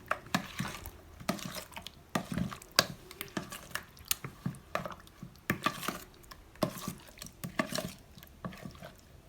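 Salmon being stirred in a yogurt marinade in a bowl, soft wet squishing and scraping strokes in an uneven rhythm, with a few sharper clicks of utensil against the bowl, close and alone.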